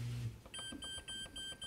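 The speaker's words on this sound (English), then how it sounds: "I hate unnecessary noises and beeps and chimes, and this washing machine is full of them." Beeps and chimes from a dishwasher's control panel: a short run of bright, evenly spaced electronic tones, fairly faint, with some low rumble at the start and no talking.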